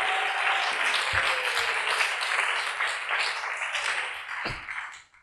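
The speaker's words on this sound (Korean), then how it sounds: "자, 주님께 박수로 영광 돌립시다." A church congregation breaks into applause, a dense wash of clapping that runs steadily for several seconds before fading at the end, with a couple of low thumps along the way.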